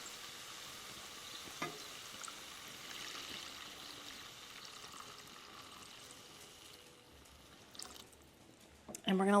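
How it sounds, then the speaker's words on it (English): Thick liquid for a chicken and dumplings casserole pours steadily into a pan, a soft continuous watery rush with faint sizzling, ending in a few louder clatters. "Now I'm gonna pour the rest of this straight into the pan."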